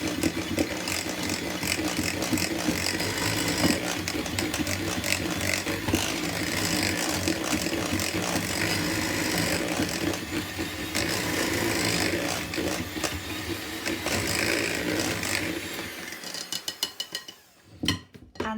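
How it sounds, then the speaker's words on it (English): An electric mixer whizzes lemon ginger cake batter in a bowl, a close, continuous motorized whirr with rattling beater noise that lasts most of the time, then stops with a few scrapes and knocks. "using aforementioned electric mixer."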